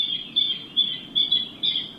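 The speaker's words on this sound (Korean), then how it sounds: "이 새소리는 괌을 상징하는 대표적인 새, 괌뜸부기 소리다" A Guam rail, the flightless bird emblematic of Guam, gives a series of sharp, repeated high-pitched calls in roughly even bursts, moderately loud over a low ambient hum with no talking.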